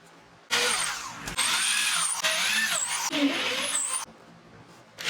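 A power drill bores and countersinks screw holes in a sheet of MDF, running in several loud whining bursts with short pauses between them.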